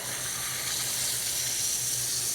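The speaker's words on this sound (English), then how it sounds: "I'm going to rinse these off." Water from a garden hose rinses freshly harvested potatoes outdoors on a frosty day, a steady close hissing spray that runs evenly and alone throughout.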